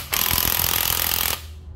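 Hitachi cordless drill in hammer mode giving one loud, close burst of rapid rattling hammer action just over a second long, then cutting off and winding down.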